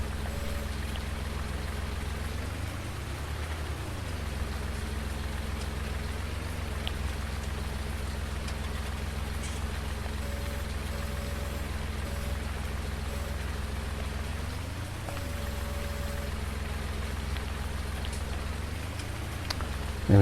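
Steady rain falls across a Farming Simulator 19 farm, a constant dense hiss lasting throughout, layered over a low droning engine hum that rises and falls periodically.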